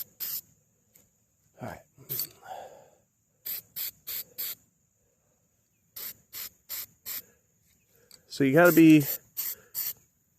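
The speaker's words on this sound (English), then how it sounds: "pay attention to where you're spraying so that you don't just waste paint" Spray paint hisses onto a car engine in short, repeated bursts of sharp, close hissing separated by silences, with someone speaking briefly between sprays.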